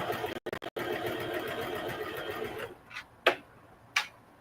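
A sewing machine stitching a mini duffle bag hums steadily for a few seconds after brief stutters, then stops, followed by a couple of sharp clicks.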